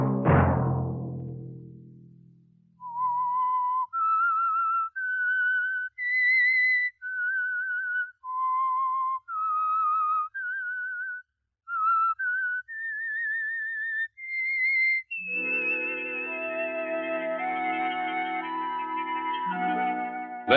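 A clear whistled theme melody of short sustained notes rising and falling in steps, played alone on a 1951 radio drama, ending as a fuller orchestral chord swells in.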